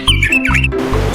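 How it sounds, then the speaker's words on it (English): Nightingale song, a short, loud burst of bright chirps and warbled whistles lasting about a second, heard alone. "Nightingale."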